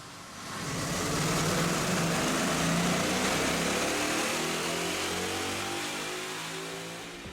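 A 2011 Mustang GT 5.0 fitted with BBK headers and an aftermarket X-pipe runs on a dyno, its engine note swelling into a sustained loud roar that holds steady and then eases slightly toward the end, with no talking.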